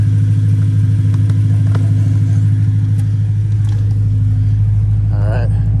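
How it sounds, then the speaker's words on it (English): A BMW M3 engine idles with a loud, steady low rumble, its pitch rising slightly toward the end as a voice briefly speaks. "Give it a few revs in a minute."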